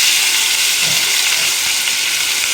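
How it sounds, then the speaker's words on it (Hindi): Chicken pieces frying in a pan of very hot oil for a spicy chicken bhuna masala, giving a loud, steady, close hiss and sizzle with no talk. "अब इसमें चिकन को डाल के फ्राई करके पहले निकाल लेंगे।"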